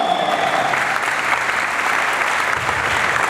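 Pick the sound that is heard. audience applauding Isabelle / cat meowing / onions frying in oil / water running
audience applauding Isabelle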